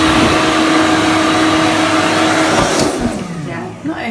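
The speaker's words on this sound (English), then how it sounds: "And there is a hairdryer" Hotel room hairdryer in a Disneyland Paris Hotel Santa Fe room, a loud, close, steady blowing roar that cuts off near the end, leaving quieter handling noises.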